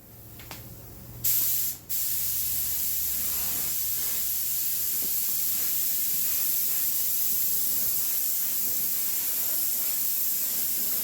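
Spray gun laying paint onto a wet-sanded Toyota Sequoia tailgate: a short burst, a brief pause, then a long continuous loud hiss close to the nozzle.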